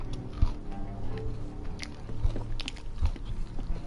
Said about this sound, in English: I'm sorry if y'all hear all this munching, but I'm hungry.